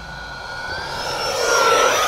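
An E-Flite F-16 Thunderbirds 80mm RC jet flies past, its ducted-fan whine steady and loud, rising slightly in strength as it nears, with no voices over it.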